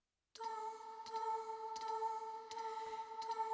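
Spitfire Audio Speculative Memories plugin plays a vocal patch: a sustained, airy synthetic voice tone holding steady pitches, soft and textured with faint rhythmic pulses, alone without talk.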